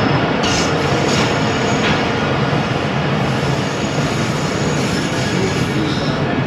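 The Bahauddin Zakaria Express passenger train runs on the rails as it nears Gailewal in south Punjab. It makes a loud, continuous, close rumble with a wide roar and faint squeals, steady throughout.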